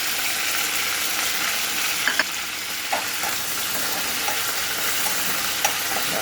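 Curry leaves and dried red chillies crackling in hot oil for mango pulihora, a dense steady sizzle close by with small pops and stirring clicks, no voices.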